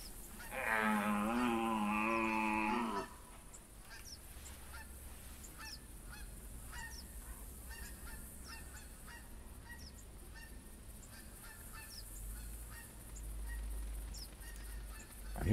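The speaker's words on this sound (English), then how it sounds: "Plenty of geese now." Geese honking in the hunting game The Hunter Classic, a loud burst of calls up front, then scattered fainter honks continuing over an outdoor ambience.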